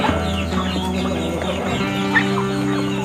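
Several chickens cluck and squawk close by, overlapping calls over a steady low background hum.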